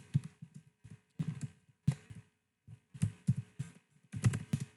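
Soft keyboard typing in irregular bursts of clicks separated by short pauses, close and quiet, with no talk.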